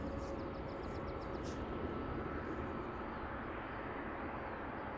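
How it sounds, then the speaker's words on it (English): A Ryanair jet takes off at Luton Airport with a steady, broad engine roar that stays constant and fairly distant throughout, with no talking. "These noisy engines on that Ryanair."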